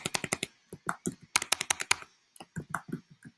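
Quick bursts of crisp computer keyboard keystrokes, close and clear, come in irregular clusters with a short pause before another run of taps.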